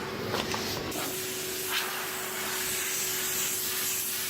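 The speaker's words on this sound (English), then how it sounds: "You can use compressed air to clean this filter." Compressed air blasts steadily through a Suzuki Ciaz cabin air filter, a close, continuous hissing rush lasting several seconds with no talking.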